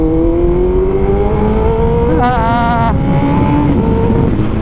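A Kawasaki ZX14R motorcycle with a new exhaust revs up loudly, pitch rising steadily, with a sharper burst of throttle midway before settling into a high drone.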